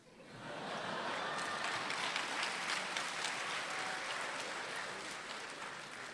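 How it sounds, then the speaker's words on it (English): Lecture audience applauding, a broad, even burst of many hands clapping that rises quickly, holds steady for several seconds at moderate distance, then begins to taper off. "You shouldn't clap really"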